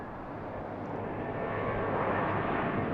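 A jet airliner taking off at BWI airport, its engine roar a broad steady rumble that swells slightly over three seconds, heard from a distance with no talking.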